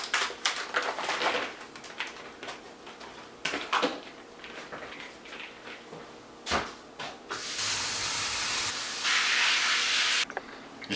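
Okra is rinsed in a strainer under running water in a home kitchen, with scattered clatters and knocks of handling, then a loud steady hiss of the tap running near the end, with no talk.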